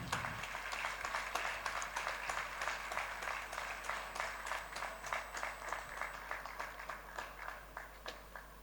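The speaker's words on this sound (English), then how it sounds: "Have a huge round of applause." A conference audience claps in steady, even applause that carries on without a break, fairly faint and distant in the hall.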